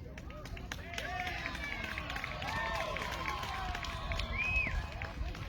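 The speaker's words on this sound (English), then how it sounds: "there's another diamond going on off to my right here, where you're hearing that cheering going from" Cheering from a neighbouring baseball diamond during a youth tournament game, a distant crowd roar with whistle-like calls that stays steady and swells slightly near the end, with a voice talking over it.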